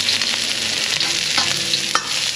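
Beans, ginger and green chilli stir-fried in coconut oil with mustard seeds in a pan, giving a loud steady sizzle with scraping stirs and spatula taps; no talk.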